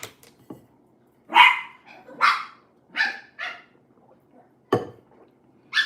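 A dog barks in several sharp, separate bursts spaced a second or so apart, moderately close, with quiet gaps between and no talking.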